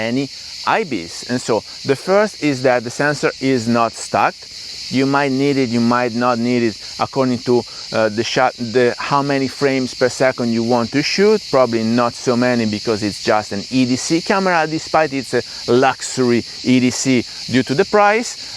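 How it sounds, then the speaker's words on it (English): Cicadas chirr in pine trees, a steady high buzzing drone that holds constant in the background while someone talks continuously over it. "The background noise you're hearing, if you hear it, are cicadas, and so I'm here enjoying in these pine trees."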